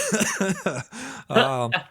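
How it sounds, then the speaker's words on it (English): A person coughs a few times in short bursts, close and fairly loud, mixed with some throat clearing and a brief chuckle. "I still got a cough from the old Corona."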